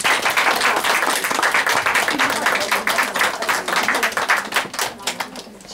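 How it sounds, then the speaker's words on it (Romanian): An audience at a Romanian Union of the Principalities celebration in Rovinari applauds steadily with dense clapping, loud and close, before tapering off near the end. "Merită aplauze și vă rog să faceți."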